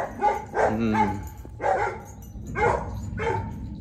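A neighbour's dog barks in a series of about five short, loud barks with whimpering tones, spaced unevenly and heard fairly close outdoors beside a road, with no speech.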